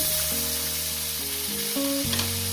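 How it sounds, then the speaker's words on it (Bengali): Whole spices fry in hot oil in a pan with a bright, steady sizzle, while a melodic tune plays over it. "কয়েক সেকেন্ড একটু ভেজে নেব"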